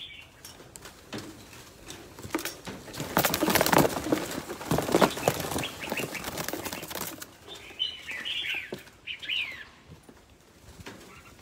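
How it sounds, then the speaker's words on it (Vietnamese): Birds, including pigeons or doves, flap their wings in loud, rapid bursts close by, with the flutter peaking midway. Soft coos and bird calls follow as the wingbeats fade. "con chim từng con chim ở đây này"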